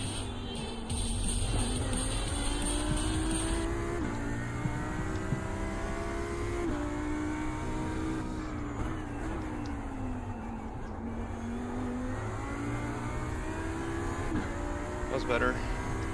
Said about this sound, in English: Is the Audi not looking like kind of menacing though, bro? Does it not sound kind of menacing?